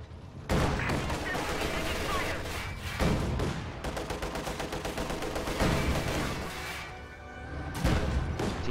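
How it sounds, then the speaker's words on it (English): A T-70 tank in a real-time strategy game fires on a Grenadier squad amid a dense battle, with several loud booming shots and crashes over continuous gunfire and rumbling combat noise. "T-70 taking shots at that Grenadier squad brings them pretty low"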